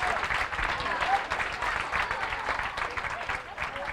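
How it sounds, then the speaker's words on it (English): Audience applause at a live stage magic performance, a steady wash of clapping from a crowd that holds evenly for the full stretch without fading. "Let's give her a big round of applause."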